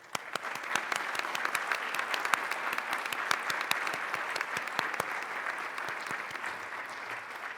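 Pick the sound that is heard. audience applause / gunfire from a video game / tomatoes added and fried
audience applause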